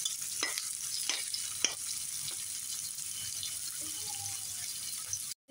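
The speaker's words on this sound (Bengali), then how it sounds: "পেঁয়াজটা একটু ভালো করে ভেজে নেব।" Onions frying in a pan for a braised rohu fish curry, with a steady hiss and a few scraping stirs. The sizzle holds even and fairly close throughout before cutting off at the end.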